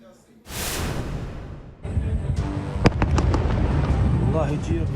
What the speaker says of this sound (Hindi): जॉर्डन में सेना के हथियार रखने के डिपो में धमाका हुआ